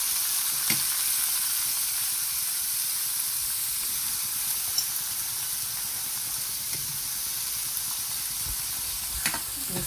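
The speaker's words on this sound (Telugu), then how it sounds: "పోపు వేగిన తర్వాత మనం వడపోసి పెట్టుకున్నాం కదండి ఉడికించిన పెసరపప్పుని, దాన్ని దీంట్లో వేసుకోవాలి." Boiled moong dal is stirred into a frying tempering, giving a continuous soft sizzle and hiss with a few faint utensil clicks, steady and close, without speech.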